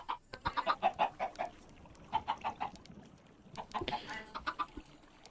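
Two chickens in Minecraft cluck in quick bursts of short, bright notes, close and clear, with brief pauses between the runs.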